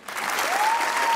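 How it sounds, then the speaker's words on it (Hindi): Studio audience applause on a Pakistani comedy talk show swells in within a tenth of a second and holds as a dense, steady clatter of many hands. A thin rising tone threads through it. "थोड़ी सी तालियां बजाइए।"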